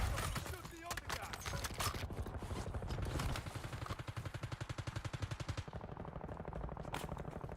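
Rapid automatic gunfire from a Call of Duty Warzone battle royale match, a steady rattling burst running through most of the stretch under voices talking over it.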